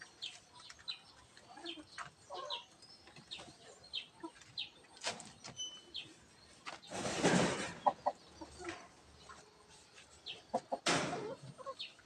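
A native hen clucks softly and repeatedly in short, irregular bursts close by at a new nest, with a loud rustling burst midway and a few more sharp sounds later.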